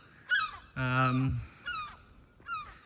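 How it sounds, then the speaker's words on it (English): A seagull calls out loudly several times in a scrapyard, a long harsh squawk in the middle flanked by shorter cries, close by against a quiet background. "Got a noisy seagull."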